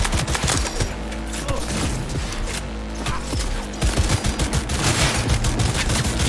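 The Skippy smart gun fires in Cyberpunk 2077, a dense rapid stream of gunshots with heavy low thumps, loud and continuous for several seconds amid combat clatter and a faint voice.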